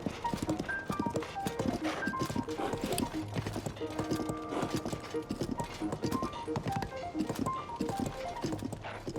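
Horse hooves clip-clopping along a path in Zelda: Tears of the Kingdom, a brisk steady patter of hoofbeats, close and continuous, with game music tones layered underneath.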